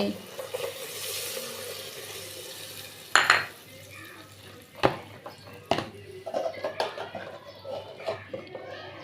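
Water is poured into a pan where katla fish curry cooks with ginger, garlic, turmeric and coriander powder, giving a faint sizzle and splash, followed by scattered clinks and stirring of utensils.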